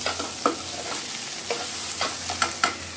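Onions and spices fry on a gas stove, with a steady close sizzle and repeated short scraping stirs of a spatula against the pan.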